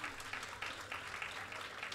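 Faint, steady hall applause from a college audience at a Carnatic music and dance festival, honoring a media studies professor; soft, even clapping that holds throughout without talk.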